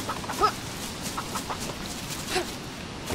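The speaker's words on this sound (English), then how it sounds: "Okay, chicken." Chicken in the survival game DayZ clucking in a few short, soft bursts over a steady outdoor ambient hiss, fairly quiet and without any talk.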